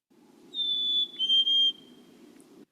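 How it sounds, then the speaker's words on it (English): A black-capped chickadee sings a clear whistled song, a couple of pure high notes held and sliding slightly downward, over a steady low rumble of background noise. "There are whistles, like the black-capped chickadee."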